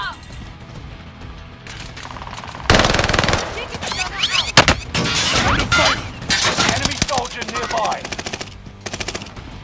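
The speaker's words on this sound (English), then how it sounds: "Someone's shooting you guys." Rapid automatic gunfire and single shots in Call of Duty Modern Warfare (2019), loud bursts with shattering impacts in a chaotic firefight, while players talk over the action.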